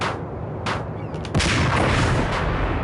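Gunfire in the Max Payne video game, a few sharp shots over a dense rumbling background, with a louder, heavier blast about halfway through that leaves a sustained roar, close and loud without speech.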